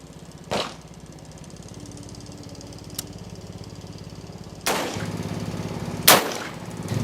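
A 6.8mm SPC rifle firing Barnes 85 grain TSX rounds into an ESAPI armor plate outdoors, with loud, sharp cracks punctuating a steady engine-like hum in the background, one near the start and two more toward the end.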